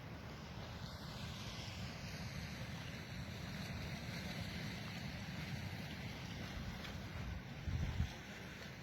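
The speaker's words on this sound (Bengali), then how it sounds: "এখানকার ঢেউটা অনেক উপভোগ করার মতো একটা ঢেউ" Sea waves around a boat off Chhera Dwip, a low constant wash of surf and wind rumble running evenly throughout, with a brief louder surge near the end and no voices.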